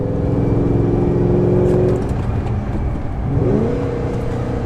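Ford GT supercharged sports car engine revving, loud and close, rising in pitch, dropping off briefly, then climbing again with a strong mechanical whine, no voices.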